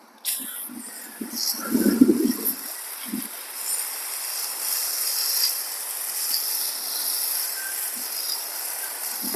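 A spray bottle sprays calming spray on a horse, hissing in a long steady spray, faint and airy, after a few soft thumps and rustles at the start.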